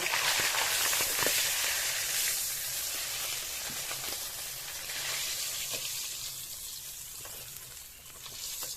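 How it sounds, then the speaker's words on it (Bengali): Katla fish pieces fry in hot oil in a village kitchen, a steady close sizzle with occasional crackles and stirring clicks, fading slightly midway. "মাছ ভাজা হয়ে গিয়েছে, এবার তুলে নেব।"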